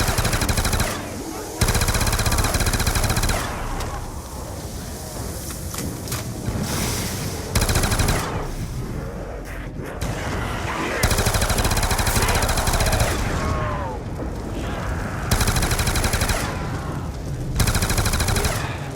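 Rapid automatic gunfire in the Call of Duty zombies map Mob of the Dead comes in loud repeated bursts with brief gaps over rushing game ambience.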